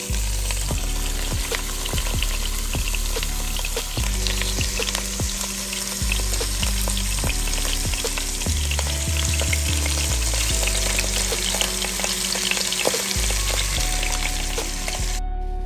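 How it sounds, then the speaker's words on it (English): Fish head and bones frying in hot oil for a Peruvian ceviche base: a steady, loud sizzle with crackling pops throughout, joined by occasional stirring and scraping clatter, with no talk. "We're gonna add a little oil and then add the head and its bones to fry and release their"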